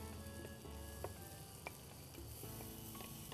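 Garlic and red chilli sauté in a pan, a faint steady sizzle with a few soft clinks and stirring sounds, quiet and continuous.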